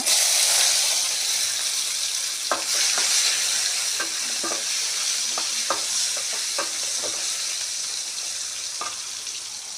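Tomatoes with a little turmeric fry in a pan with a loud, constant hissing sizzle, broken by intermittent scraping stirs close by.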